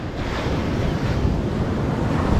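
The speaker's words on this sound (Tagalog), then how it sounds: "Kung tingin nyo lang ay medyo maliliit yung alon ano, pero talagang totoo, malalaki talaga yan." Large sea waves surge and crash in a constant heavy roar, mixed with strong wind buffeting the microphone, loud and close throughout without any speech.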